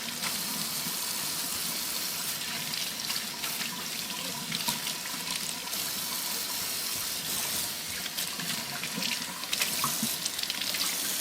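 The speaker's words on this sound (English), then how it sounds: "get the rest of our zucchini washed up" Tap water runs steadily into a sink while zucchini is washed, a continuous close hiss and splash with small shifts as the vegetables move under the stream.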